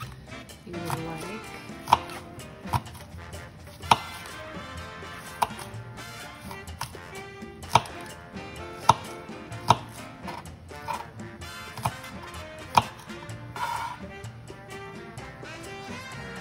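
Knife chopping green onion on a cutting board, heard as sharp, irregular taps spaced a second or so apart over quiet background sound.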